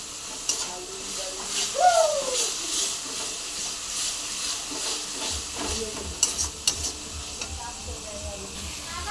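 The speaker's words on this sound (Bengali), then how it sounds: "দেখুন মশলা থেকে তেলটা ছেড়ে দিয়েছে আমার প্রায়। এরকম ভালো করে মশলাটা কষে নিতে হবে।" Spice paste for a Bombay duck (lote fish) curry sautés in hot oil, giving a steady, close sizzle and frying hiss with occasional stirring scrapes throughout.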